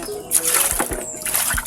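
Water runs and splashes at a kitchen sink while raw chicken is rinsed, with close, uneven splatters and trickles over a steady flow.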